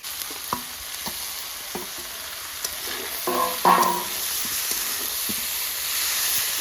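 Leafy greens and eggplant frying together in a pan with green chillies, giving a steady close sizzle with scattered stirring clatters and a brief louder burst of activity midway.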